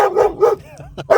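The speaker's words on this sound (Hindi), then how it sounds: "ये दिल्ली का कुत्ता कैसा भौंक रहा है?" A dog in Delhi barks close and loud, a few sharp barks followed by a short whining yip and another bark.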